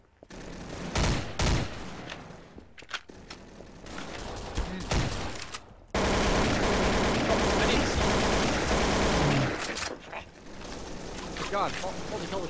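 Bursts of gunfire in a Garry's Mod gun game match, with rapid shots and a sustained stretch of continuous firing, loud and close, while players talk over it.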